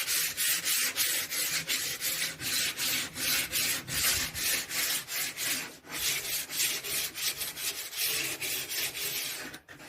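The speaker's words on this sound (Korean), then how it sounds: "사포를 하실 때는 나무 결 반대 방향으로 하지 마시고 나무 결 방향 따라서" Sandpaper rubbed by hand along the grain of wood during a furniture refinishing job, a rapid series of rhythmic raspy strokes close up with no talking.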